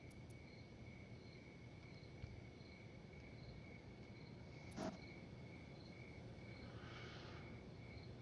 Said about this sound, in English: I can still hear the crickets chirping